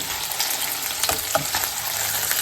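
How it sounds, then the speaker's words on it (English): A piece of beef for pot roast sears in a hot pan, giving a loud, steady sizzle with a few soft bumps as the meat is handled, close and without speech. "I'm going to sear this side of the meat real quick"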